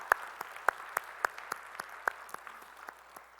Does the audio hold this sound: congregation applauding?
yes